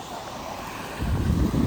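Strong wind buffets the microphone outdoors by the seaside, a steady broadband roar that surges louder and gustier in the second half, with no voices.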